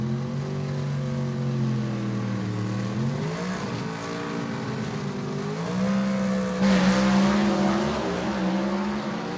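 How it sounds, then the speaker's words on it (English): Gasser-class drag race cars launch and accelerate down the strip at Gulfport Dragway, engines rising in pitch through several gear changes, loud and sustained, growing harsher near the end. "Good drag race."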